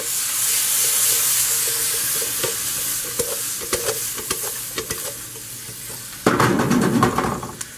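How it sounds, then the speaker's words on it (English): Canned tomatoes tossed into a hot pan and stirred, a loud frying sizzle that settles into scraping stir strokes and clicks, then a fresh burst of sizzling near the end, close and without talk. "Let's toss the maters in. Mix that around a little bit."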